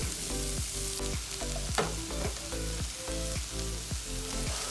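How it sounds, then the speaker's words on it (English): Cooked rice stir-fried in a hot pan for restaurant-style chicken fried rice, a steady loud sizzle and crackle with repeated scraping strokes of the spatula, close and continuous, no talking. "Okay, so now I will add rice."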